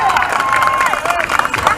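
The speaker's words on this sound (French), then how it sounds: "Il est au départ de Paris-Nice maintenant, sous les applaudissements du public." Roadside spectators clap and cheer at the start of the Paris-Nice cycling race, a lively burst of crowd noise with a voice talking loudly over it.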